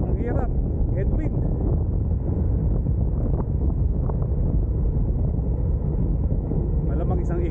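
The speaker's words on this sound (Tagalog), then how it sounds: "Sa area na to medyo malakas ang hangin." Strong headwind buffets the microphone in steady low rumbling gusts while riding in a sandy outdoor area, loud and continuous throughout with no voices.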